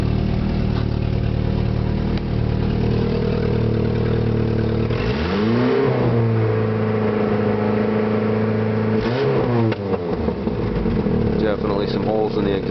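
Isuzu 4ZE1 2.6L engine settling to low idle with a leaky exhaust, steady close rumbling drone with a couple of brief throttle swells, a voice talking over it.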